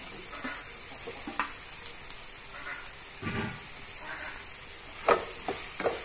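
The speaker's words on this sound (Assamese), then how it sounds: "এইখিনিও একেলগে ভাজি প্ৰায় 1 মিনিটমান সময় এনেদৰে" Potatoes with cumin and coriander powder fry in a pan, giving a quiet, steady sizzle broken by occasional scrapes and knocks as they are stirred.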